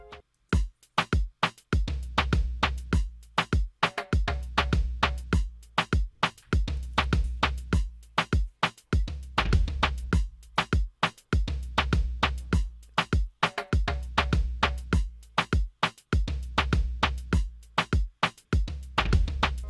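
A programmed Afrobeats drum groove remaking a song loops steadily, with punchy kicks, sharp snares and busy percussion hits in a tight repeating pattern, no voices.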